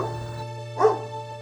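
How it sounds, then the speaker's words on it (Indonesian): A dog barks angrily as a story sound effect, one sharp bark standing out over a steady low tonal hum. "Snowy menggonggong kesal dan merasa terganggu dengan gadis kecil itu."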